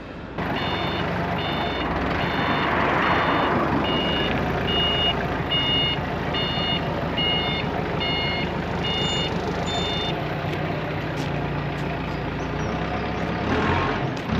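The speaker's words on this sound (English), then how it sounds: "So what he's just taken off the lorry, I reckon, is one of the heaviest things on here." A lorry delivering building materials to a site sounds a rhythmic series of evenly spaced reversing beeps over a continuous diesel engine rumble, loud and nearby.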